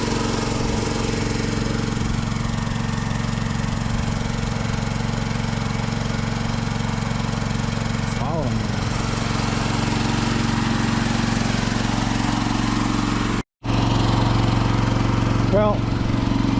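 Mini excavator engine fitted with an add-on generator muffler, running steadily in a loud continuous drone with a low thumping idle, cut briefly near the end, a voice speaking over it.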